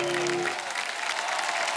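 A studio audience at a comedy talk show bursts into dense applause to welcome Aakriti Kakkar, steady and full for the whole stretch, with a held musical tone fading out in the first half.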